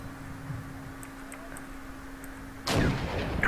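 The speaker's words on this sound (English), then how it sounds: "My mortars are firing now." Mortars firing in the video game Wargame: European Escalation: faint distant thumps early on, then one loud booming blast near the end that leaves a rumbling tail.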